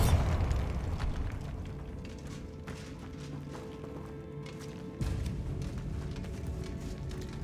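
A Bombarda spell explodes in a Harry Potter video game: a booming blast at the start fades into a low rumble, and a second heavy impact hits about two thirds of the way through.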